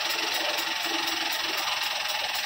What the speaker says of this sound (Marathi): आता शिलाई मारून बघायला